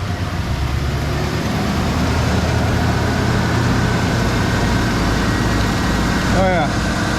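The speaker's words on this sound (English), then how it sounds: "Got a bit of an exhaust leak too." A 1990 Ford F150 with a 5.0 V8 idles steadily with an exhaust leak, a continuous close rumble and hiss throughout, with a brief voice near the end.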